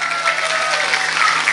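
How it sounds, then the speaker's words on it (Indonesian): A crowd at a lively religious talk gathering in South Sumatra claps briefly, a dense burst of close, steady applause with no voices heard. "Ayo kasih tepuk tangan."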